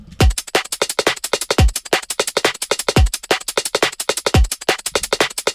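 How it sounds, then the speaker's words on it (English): A fast, busy lo-fi drum and bass drum loop with crisp hi-hats and snares over booming kicks that land every second or so, looping steadily. "So the first thing is the drums, and the drum sounds like this."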